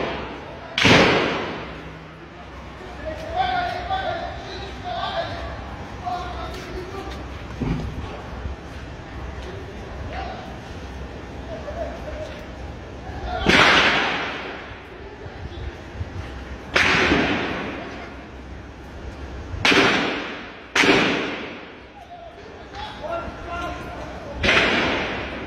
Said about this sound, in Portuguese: Muito tiro, muito tiro!